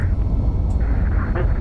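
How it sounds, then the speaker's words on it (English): MD-11 thrust reversers deployed after landing in the X-Plane 12 flight simulator, a loud, steady roaring rumble of jet engine noise with broad rushing air, close and continuous with no speech. "Reversers are out."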